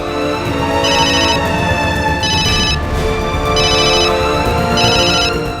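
Phone ringing loudly in a domestic scene, an electronic ringtone repeating in four regular bursts over a continuous musical background.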